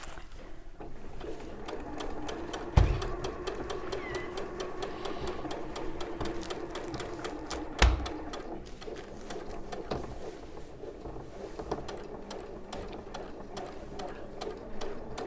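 A Janome sewing machine stitching steadily, its fast even mechanical whir and needle chatter running continuously and fairly close, with a couple of sharp knocks along the way and no talk over it.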